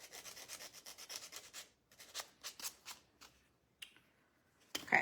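Hand sanding of a wooden 3D corner chair picture from a DIY kit, close rhythmic scraping strokes in bursts that pause, then resume more sparsely, ending with a louder rub.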